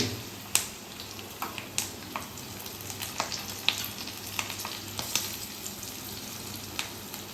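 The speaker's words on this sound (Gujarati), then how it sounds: "મરચા થોડા આપણા ફ્રાય જેવા થઈ જાય એટલે ગેસની ફ્લેમને બંધ કરી દેવાની" Green chillies fry in hot oil for a tempering on a gas flame, a steady close sizzle broken by sharp pops and crackles spread through the whole stretch.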